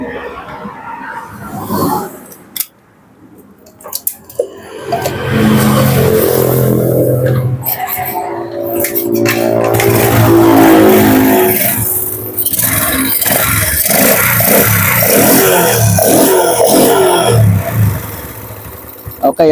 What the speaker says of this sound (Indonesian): Oke ya, motor mau hidup ya guys.